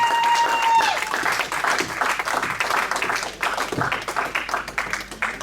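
A church congregation applauds after a prayer, a dense steady wash of clapping from many hands that carries on throughout, fairly close and full, with a brief tone at the start.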